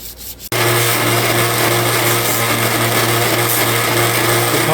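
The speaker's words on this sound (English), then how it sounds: "Takes ages to sand them down nicely" A bronze knife blade is being sanded by hand, giving a loud, continuous, even scraping rub that starts abruptly and carries on without a break.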